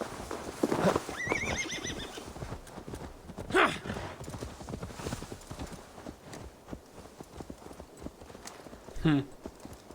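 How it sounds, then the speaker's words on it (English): In the video game Assassin's Creed Valhalla, horse hooves clip-clop steadily throughout while a horse whinnies loudly near the start and again later, with murmured speech underneath. "Now to deliver Magni his horse."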